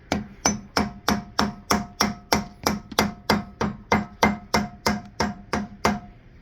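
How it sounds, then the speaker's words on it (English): The rubber face of a hammer taps chrome dust caps onto a wheel hub in a steady series of about eighteen sharp, evenly spaced knocks. Each knock is close and distinct, with a faint ring, and no one talks. "I'm probably going to use this hammer to hammer those on, but with the rubber side"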